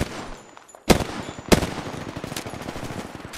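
Apex Legends gunfire: a couple of sharp loud shots followed by a rattling stream of rapid weapon fire, close and continuous, with no voices.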